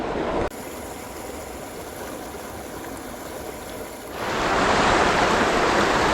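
A river running steadily nearby, a broad continuous rush of flowing water that swells noticeably louder in the last couple of seconds, with no voices.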